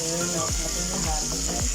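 Fried chicken pieces deep frying in hot oil at home, giving a steady close sizzle with light crackling bursts and a few stirring knocks.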